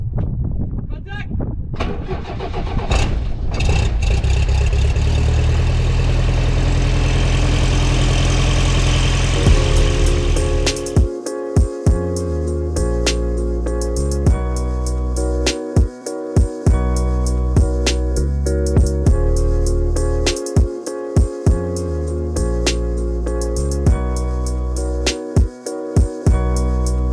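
Jabiru light aircraft engine cranking and catching, then settling into a loud, steady close idle with a rhythmic propeller throb and a few brief dips, with speech in the opening moments.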